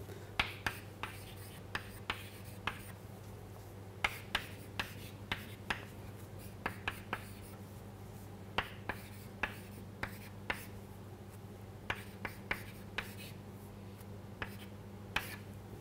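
Marker or chalk writing out an expression on a board during a chemistry lecture, heard as a steady series of short, sharp taps and scratchy strokes over a constant low hum, with no talking.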